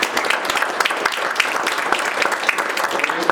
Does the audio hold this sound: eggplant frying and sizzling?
no